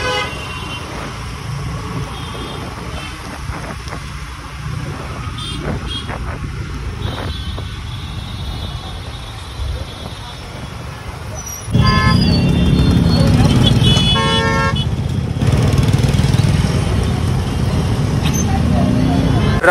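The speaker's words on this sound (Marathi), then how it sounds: "ट्रॅफिक कसलं आहे बाबा, अजूनपर्यंत लाईन आहे इथं" Busy Indian roadway traffic with vehicle engines rumbling and repeated car horn toots, growing louder and denser partway through as heavy vehicles pass close, with people talking over it.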